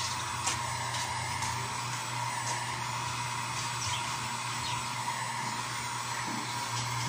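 An electric blower drying hardener on a screen-printing screen gives a steady, close whir of rushing air that runs evenly the whole time, with no talking over it.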